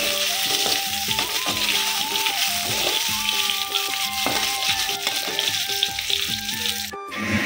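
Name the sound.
potatoes frying in oil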